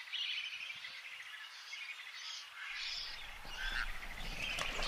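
Birds calling in Akagera, Rwanda, a lake and wetland setting, with a steady chorus of high chirps and tweets throughout, some frog-like croaking mixed in, and a low rumble entering partway.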